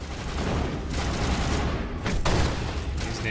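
Gunfire rattles through a firefight in the game Mass Effect, dense overlapping shots and bursts at steady loudness over a busy battle background, with no talk over it.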